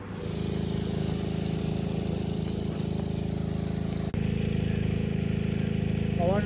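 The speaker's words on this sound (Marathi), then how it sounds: "फवारणी चालू हा, बटन दाबलेला असा." A motorized fogging sprayer runs at a Shimga Holi festival night in a village near Kudal, Konkan. It gives a loud, steady engine drone with a strong buzzing hum, briefly dipping once partway through before resuming.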